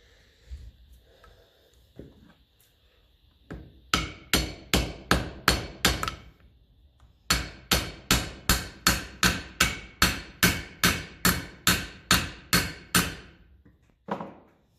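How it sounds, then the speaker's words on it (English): A ball-peen hammer strikes metal on a punch, restoring a 1954 Ferguson TEF 20 diesel tractor, in two fast, regular runs of sharp ringing blows, close and loud, with a few scattered taps before them. "So your ball pen hammer is the best for this."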